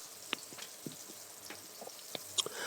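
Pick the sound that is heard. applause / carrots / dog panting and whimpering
carrots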